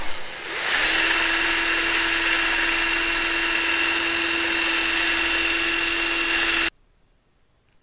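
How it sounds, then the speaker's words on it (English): A small power tool sands down a bearing part, running as a steady high-pitched whine with a constant tone for about six seconds before cutting off abruptly into near silence. "I'm gonna try sanding this down a little bit more."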